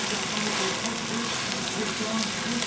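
Onions caramelizing in a pot for French onion soup, stirred and scraped from the bottom, give a steady broadband sizzle with faint spoon scrapes throughout, close and continuous.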